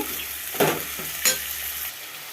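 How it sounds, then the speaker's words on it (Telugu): Salt, turmeric and ginger paste fry in a pot for mutton dum biryani, a soft steady sizzle with two brief louder stirring scrapes, close and without speech. "తగినంత సాల్ట్ కొంచెం పసుపు తగినంత అల్లం పేస్టు బాగా ఫ్రై చేసేసుకుందాం"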